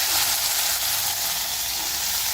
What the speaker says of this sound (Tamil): இருப்பு சட்டியில் எண்ணெய் விட்டு கடுகு போட்டிருக்கேன்